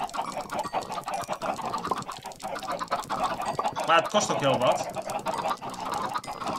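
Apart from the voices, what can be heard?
chickens clucking in the video game Minecraft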